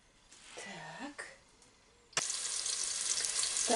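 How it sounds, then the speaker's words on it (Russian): Chopped onion hits hot vegetable oil in a pan with a sudden loud sizzle that keeps hissing steadily, after some quiet kitchen handling noises. "Так, лучок жарится."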